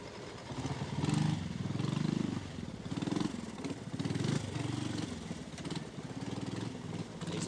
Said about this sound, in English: 14-year-old Terry Oakes riding a Royal Enfield